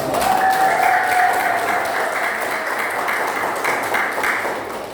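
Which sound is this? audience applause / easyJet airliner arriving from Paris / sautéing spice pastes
audience applause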